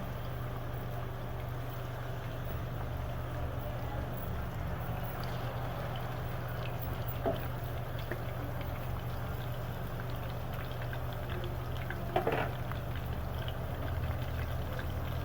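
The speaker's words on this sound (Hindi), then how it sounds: "अब हम इसके अंदर ये चिकन डालेंगे और चिकन डालकर इसको हमने फ्राई करना है।" Chicken fries in hot oil in a karahi for restaurant-style chicken karahi, a steady, low, continuous sizzle and bubbling throughout with a faint background hum and a few small pops.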